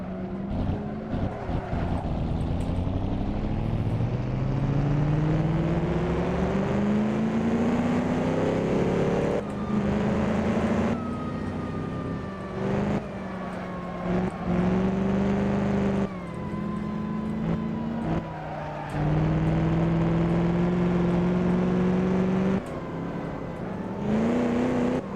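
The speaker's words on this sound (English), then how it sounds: "I can hear the engine of Axelin behind me" Vintage 1938 Grand Prix race car engine in Assetto Corsa, racing at Pau: loud, continuous engine drone with pitch rising through gears, dropping at each shift and climbing again, no talk.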